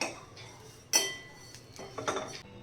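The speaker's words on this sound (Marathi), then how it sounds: "आता आपण इथे गॅस बंद करूया आणि गरम कढईमध्येच मी इथे 1-2 मिनटं हे छान असेच" Dried shrimp stirred with a metal spatula in a hot kadhai with the gas off: a few sharp metallic scrapes and clinks, one loud knock near the start, over quiet background.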